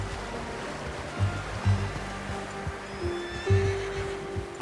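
A horse in Red Dead Redemption 2 snorts and whinnies in several short bursts over soft hoof clops and a low outdoor ambience of flowing water.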